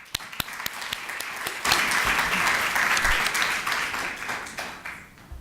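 A live audience applauds as a professor is welcomed onto a stage at a lecture on organ donation, steady dense clapping from a crowd sustained for about five seconds with a few sharper claps standing out.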